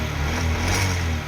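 Honda SP 125 motorcycle held at high RPM, a dense continuous engine buzz with a rattling loose-part texture mixed in, close and loud throughout the short stretch, no speech over it.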